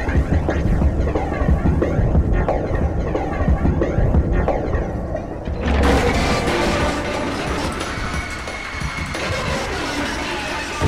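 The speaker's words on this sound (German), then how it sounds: "Der ist im Keller und man hört den immer noch hier oben." Generator in a basement in the horror video game LIGHT, a loud continuous throbbing mechanical hum heard from upstairs, steady throughout with a grinding texture and a brighter noisy layer joining partway.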